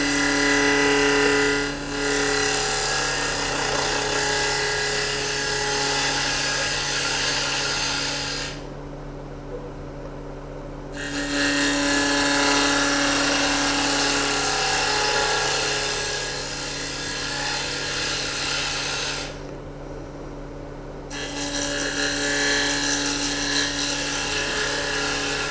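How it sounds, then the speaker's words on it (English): Half-inch Doug Thompson bowl gouge cutting a wooden bowl on a spinning lathe, a steady scraping, rasping drone over the motor's constant hum, dropping out briefly twice as the tool lifts from the wood. "By the way, this is a Doug Thompson half-inch bowl gouge"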